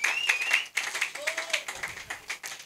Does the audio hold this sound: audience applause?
yes